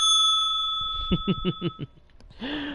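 A notification bell sound effect from a Minecraft Bedrock gaming stream: a quick run of about five bright rings, then a short chime tail.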